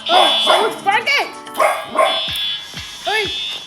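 A dog barks repeatedly and close by, a run of sharp barks and yips in uneven rhythm, some whining in pitch, with no one talking over them.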